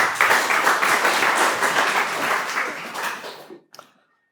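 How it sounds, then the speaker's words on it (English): Audience at a talk applauds loudly for about three and a half seconds, steady clapping that fades out, followed by a couple of stray claps and near silence. "Everyone give him a round of applause."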